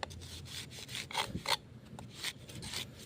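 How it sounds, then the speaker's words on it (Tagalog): Grass cutter straining against bamboo at a roadside, a rough scraping, rasping grind in uneven surges, moderately loud and close with no voices. "Nahirapan po kasi dito yung grass cutter umikot."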